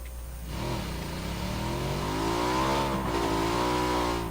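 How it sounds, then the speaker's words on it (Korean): A motorcycle engine in the PUBG battle royale game starts and revs up, its droning tone climbing steadily in pitch, loud, close and continuous, with no talk. "오토바이 여기 있다. 바로 가보도록 해줘."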